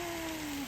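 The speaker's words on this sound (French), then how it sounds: "On a le droit à une belle pluie en fait." Autumn rain falls outdoors in a steady, hissing patter with no distinct drops, moderately quiet and continuous, with a faint tonal hum sliding briefly underneath.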